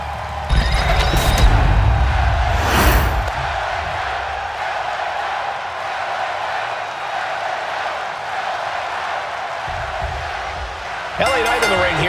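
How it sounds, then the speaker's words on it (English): A WWE 2K25 arena crowd roars steadily through the clip, loud and continuous, with a sharp burst near the start and another swell at the end, while a commentator talks over it. "the roar of the crowd tells you all you need to know"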